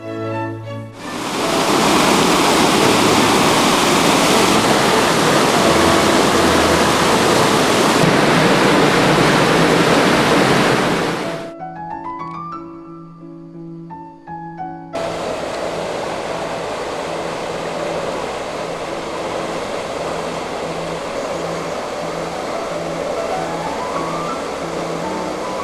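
Fast-flowing water of the Orbise river in a Burgundy valley, a loud steady rushing roar that breaks off briefly and then resumes slightly softer and continuous.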